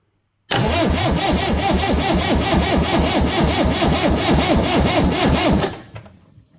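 The engine of a Massey Ferguson 780 Special combine, with its injection pump being tested, is cranked over for about five seconds in a loud, rhythmic chugging that cuts off and fades, with no speech.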